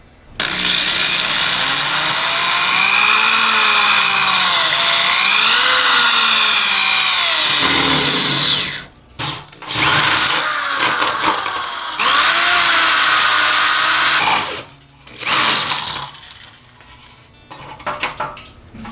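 A power drill whirs loudly in long bursts drilling holes in a Triumph Spitfire dashboard, its pitch rising and falling as it bites into material, with short pauses and clattering between runs.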